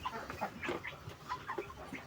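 A crossbred chicken from layer and Bangkok game-fowl stock, clucking in short soft bursts, several quick low calls in a row, close and fairly quiet against light background noise.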